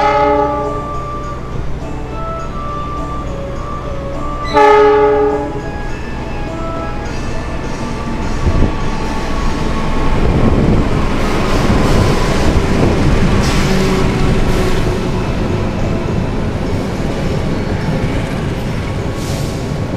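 The Bangunkarta train standing at Cirebon station, with a horn blast near the middle and a loud, steady rumble of rail noise and passing railcars filling the platform, no talk heard.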